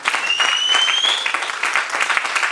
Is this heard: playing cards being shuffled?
no